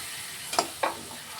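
A steady sizzle of spice paste frying with onions fills the moment, broken by two quick scraping stirs close by.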